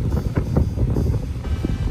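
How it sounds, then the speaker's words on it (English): Strong outdoor wind buffeting the microphone, producing a loud, continuous low rumble with gusty surges throughout. "it's very windy out here, sorry about that"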